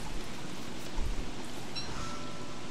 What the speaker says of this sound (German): der Regen ist voll laut